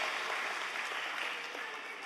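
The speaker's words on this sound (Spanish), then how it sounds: "denle un aplauso" Faint applause from a church congregation, a soft, steady patter of many hands that stays even and distant for about two seconds.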